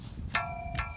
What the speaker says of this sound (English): I'm probably gonna make this into a bell sound something like this.